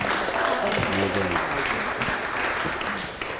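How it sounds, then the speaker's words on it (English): Applause from a gathering at an ISKCON Los Angeles temple event, a steady wash of clapping with a voice speaking briefly over it before it starts to ease off. "A round of applause."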